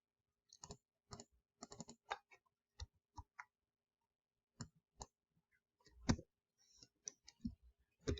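Computer keyboard typing while entering a cell range into a spreadsheet name box, sparse close key clicks in short bursts separated by silent gaps, with a louder cluster near the end.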